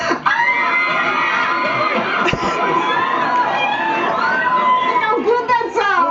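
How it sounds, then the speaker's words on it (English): Premiere panel audience at a Justice League: Doom event screaming together on cue, a loud, sustained wall of high-pitched shrieks and cheers from a large crowd lasting several seconds. "But I want the women to give me good girly screams"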